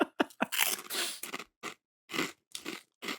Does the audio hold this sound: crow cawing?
no